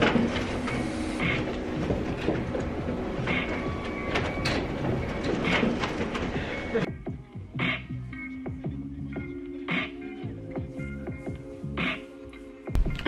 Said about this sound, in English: I think there's something up with the printer.